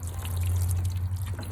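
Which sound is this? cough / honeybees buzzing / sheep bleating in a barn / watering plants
watering plants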